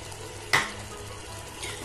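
Mutton keema with potatoes frying in a pan, a low steady sizzle broken by one sharp stirring scrape near the start and a softer one toward the end.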